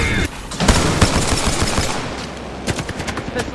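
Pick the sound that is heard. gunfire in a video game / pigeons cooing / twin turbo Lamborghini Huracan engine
gunfire in a video game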